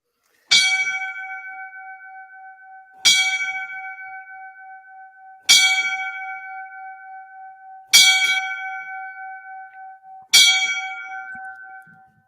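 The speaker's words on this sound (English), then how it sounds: "we're going to give the 5 bells tonight for these gentlemen" Five single strikes of a firefighters' memorial bell, evenly spaced about two and a half seconds apart, each a clear ringing tone that rings on and fades before the next, alone in silence.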